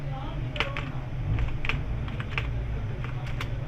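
Rapid clicking of computer keyboard keys being typed, steady and close, with bursts of keystrokes over a low hum.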